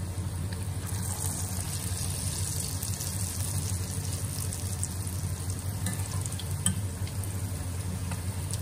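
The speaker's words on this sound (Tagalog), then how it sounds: "Nagpuplot po ang okra sa ating mantika." Okra pieces coated in tempura batter fry in hot oil, giving a steady, loud, close sizzle and bubbling that runs without a break for the whole stretch, with no talk over it.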